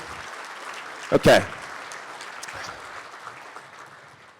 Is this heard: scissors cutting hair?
no